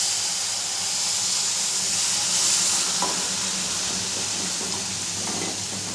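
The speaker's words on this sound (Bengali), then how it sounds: "সেই জলটা এবার দিয়ে দেবো।" Hot water poured into semolina in a pan gives a loud, continuous sizzling hiss with steam that holds steady throughout, with no voices.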